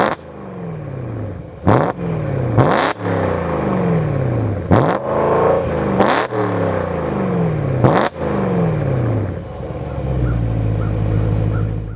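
A warmed-up car engine revs repeatedly in loud, close bursts, each rising roar falling back to a rough idle, followed by a deeper steady rumble at the end.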